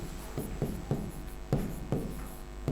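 Pen or chalk writing strokes, a series of short scratchy marks in an irregular rhythm, close and fairly quiet with no talking.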